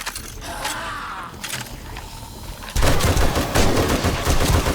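Gunfire in the video game 7 Days to Die, starting with scattered shots and mechanical clatter, then breaking into loud, rapid automatic bursts for the last couple of seconds.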